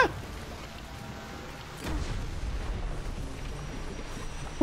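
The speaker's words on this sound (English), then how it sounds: "fire makes the slime explode" A slime bursts into an explosion after being set alight by fire in Dragon's Dogma 2, a sudden low boom near the two-second mark followed by a sustained rumbling roar over steady game ambience.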